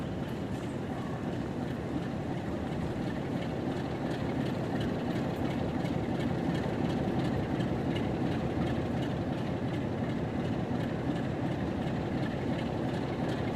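Train rolling past in Train Sim World 6, a class 86 locomotive with Mark II carriages on a rail tour, giving a continuous rumbling clatter of wheels on track at steady volume, with no talking.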